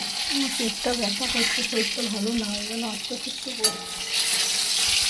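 Hot oil sizzles steadily at a fish market stall, a broad hiss running beneath a voice talking close by, with a brief clatter partway through.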